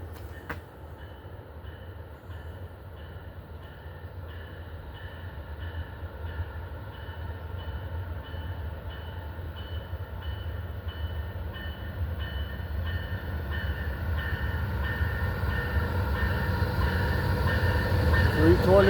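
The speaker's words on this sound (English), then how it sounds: "Looks like we got Amtrak Auto Train 52 coming northbound." Amtrak Auto Train 52 rolls northbound through the station at Petersburg, Virginia. Its steady rumble and rail noise build slowly in loudness as the train draws closer.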